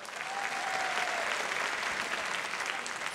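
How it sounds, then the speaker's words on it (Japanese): A live crowd at a Tekken 5 fighting-game tournament, Tougeki 2005 in Japan, applauds players before a quarterfinal, a loud, sustained and even roar of clapping. "皆さん拍手お願いします。"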